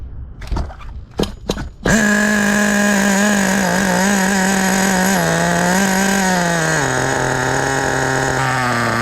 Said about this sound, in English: The sound of a beautiful, brand new nitro idling.